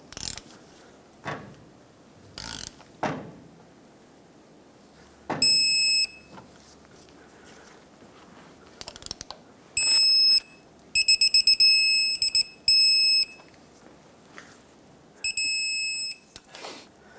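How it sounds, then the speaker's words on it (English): A torque wrench tightens four bolts to 59 foot-pounds on a 1996-2002 Toyota 4Runner during wheel seal replacement. Scattered clicks and knocks are followed by repeated bursts of high-pitched electronic beeping, each lasting about a second. "Okay, let's torque them. 59 foot-pounds for all 4 of these bolts."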